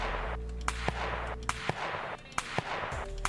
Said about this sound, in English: So I'm determining that this is my muzzle blast audio signature.